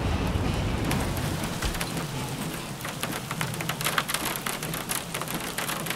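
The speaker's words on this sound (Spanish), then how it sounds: "Bueno, tormenta, va a llover." Steady rainstorm pours across a Jurassic World Evolution park, a dense hiss of raindrops on surfaces with occasional sharper patters, loud and continuous with no voices.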